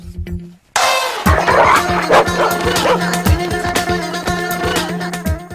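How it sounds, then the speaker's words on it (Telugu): A dog in a Telugu comedy film scene barks and yips repeatedly with whimpering in between, loud and close, over a busy background of music and effects. "ఇది మన కుక్కలా ఉంది"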